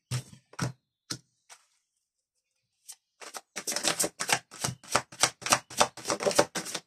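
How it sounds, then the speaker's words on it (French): Doreen Virtue angel tarot cards handled on a table: a few isolated soft clicks and a pause, then a quick run of crisp, close card snaps and taps in steady rhythm. "j'ai pris le tarot des anges de Dorine Virtue pour le tirage. Et on va aller prendre 3 cartes"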